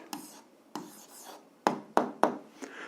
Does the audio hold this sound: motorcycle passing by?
no